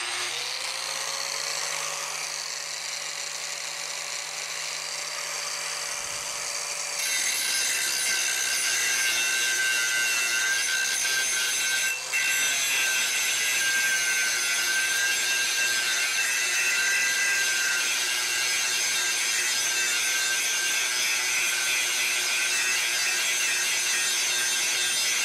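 A Wesco WS4740 4.5-inch angle grinder runs freehand, starting with a lower hum before rising to a loud, steady high-pitched whine that continues unbroken, with a brief dip partway through.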